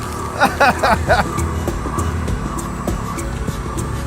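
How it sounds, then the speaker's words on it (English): A moped engine revs hard during a burnout in an auto parts store parking lot, with a screeching tire squeal in short bursts near the start, then a steady rumbling motor with background noise. "You're missing moped burnout."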